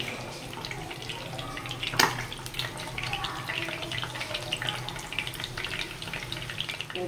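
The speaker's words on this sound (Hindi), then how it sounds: "इस मर्तबा हम जो है कोफ्ते जो है फ्राई करेंगे" Kofta meatballs frying in a pan over a low flame, a continuous close sizzle with a clatter of utensils around the two-second mark.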